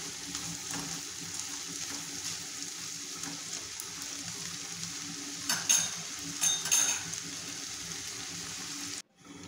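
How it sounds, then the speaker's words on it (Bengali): Potatoes and slit green chillies are stirred in a frying pan, giving a steady sizzle with scraping spatula strokes and a couple of louder clattering bursts, no voices. "কাঁচামরিচ দিয়ে এখন আমি আবার নেড়ে চেড়ে দিচ্ছি আলুগুলোকে"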